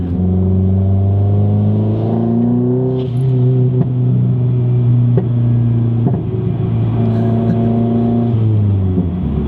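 A Mazdaspeed 3 engine drones steadily while driving, a loud, even hum that rises and dips slightly with the throttle for several seconds, with no talking.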